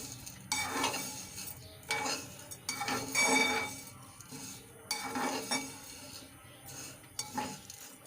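Vermicelli frying in desi ghee in a pan while being stirred, soft sizzling under repeated scraping and clinking of a spoon against the pan, close and fairly quiet, no talking.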